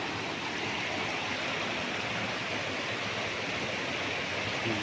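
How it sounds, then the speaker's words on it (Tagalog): A spring-fed stream at a resort in Liliw, Laguna, rushes in a steady, dense, unbroken wash of flowing water, loud and close throughout with no pauses. "Ayun, doon po papunta ang agos ng tubig."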